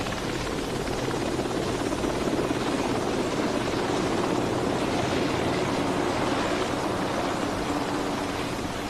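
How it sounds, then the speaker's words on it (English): A helicopter with a radar scanner climbs to several thousand feet above a naval task force, its steady rotor and engine roar filling the whole span at constant loudness, with no voices. "The helicopter then climbs to several thousand feet above the task force."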